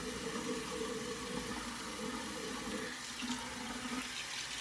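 Water runs steadily from a tap into a sink as hands are wetted before a shave, a continuous close splashing rush with no talking.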